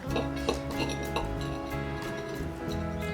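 Shampoo bar ingredients being mixed and smushed in a bowl give close, steady scraping and soft clinking of utensil against the bowl, with faint background music underneath.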